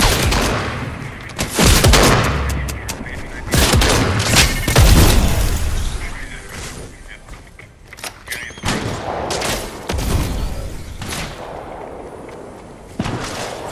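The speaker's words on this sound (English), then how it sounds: "But he's trying to shoot at me." Gunfire and booming blasts from a Fortnite match come in loud, irregular bursts. Rapid volleys mix with heavier single hits and quieter gaps between them.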